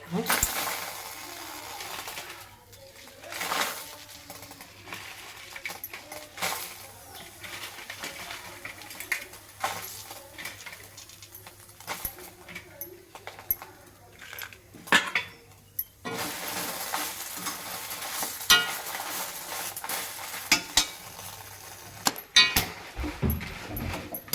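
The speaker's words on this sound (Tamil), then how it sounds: "காஞ்ச மிளகாய் போட்டு வறுத்துக்கலாம்" Dried red chillies dry-roast in a pan, making light, irregular rattling and scraping as they are tossed, with brief clinks; a voice talks intermittently over the close, uneven cooking noise.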